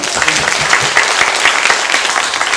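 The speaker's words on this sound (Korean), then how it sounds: "이승열 기자님에게 다시 한번 큰 박수 부탁드립니다." Steady, dense applause from a sizable crowd at a fire station open event, loud and continuous throughout with no voices standing out.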